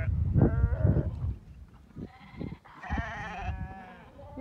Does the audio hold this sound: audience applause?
no